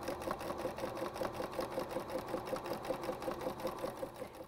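A sewing machine stitching binding onto a quilted table runner, its rapid even needle rhythm running steadily and close for several seconds with no talk.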